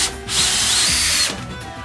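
A screw gun drives screws into a wooden pumpkin table, a loud, steady whirring burst of about a second with a spin-up at the start and a trailing ratchet as it stops, close and alone.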